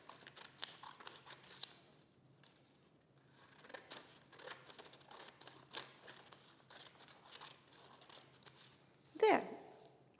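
Scissors cut paper strips, leaving them connected at the end, in a scattered series of soft, quiet snips with faint speech now and then and one sharper crinkle near the end.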